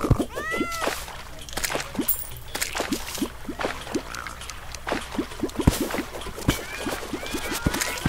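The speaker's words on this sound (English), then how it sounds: "So many cats." Many cats meow in a base-building video game, overlapping, rising and falling, with sharp repeated clicks scattered among the calls.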